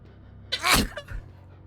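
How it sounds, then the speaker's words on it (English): A single sharp human sneeze bursts out close to the mic, with a short breathy intake before it and a faint trailing exhale afterward, no talking over it. "I'm gonna sneeze."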